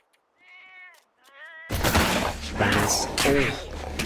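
Growling and yowling cougar calls from a video game, a series of harmonic cries early on followed by loud, dense in-game noise and further cat-like wails, with a voice talking over parts.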